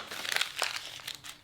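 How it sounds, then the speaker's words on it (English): Yellow legal-pad paper being crumpled by hand, a close, crisp crinkling that runs in bursts for about a second and a half. "I love just crumpling up and throwing it away when it's a bad idea."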